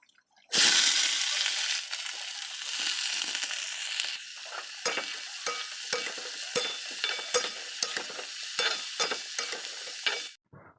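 Sliced ridge gourd drops into hot oil in a wok with a sudden loud hiss that settles into steady sizzling, followed by a series of scraping, clattering stirring strokes close by.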